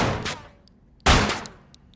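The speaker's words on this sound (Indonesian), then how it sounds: "Kemudian mereka berdua pun kembali melatih skill menembak mereka." Gunshots at shooting practice in a film scene, a few sharp, loud reports separated by short gaps, the strongest blast near the middle followed by a decaying echo.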